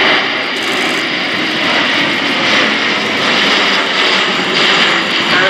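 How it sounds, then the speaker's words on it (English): An Airbus A400M Atlas military transport at an air display roars overhead with its undercarriage down, a loud, continuous, broadband engine drone that holds steady throughout with no voices on top. "Here we see the aircraft coming down with undercarriage down in the dirty configuration"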